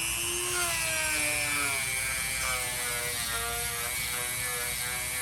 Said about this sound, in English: I've just got a sander drum on my Dremel